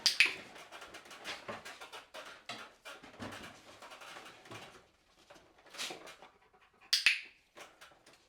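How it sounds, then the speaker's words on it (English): A Rottweiler pants in quick rhythmic breaths close by during an obedience training session, with a few pauses and a sharp click or snap near the end. "Pretty good for a Rottweiler."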